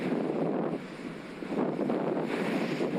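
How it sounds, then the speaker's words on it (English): Strong wind buffets the microphone while someone rides a Specialized Turbo Vado SL e-bike through Macclesfield Forest. It makes a continuous rumbling roar that swells and dips in gusts, with no speech. "It's very windy,"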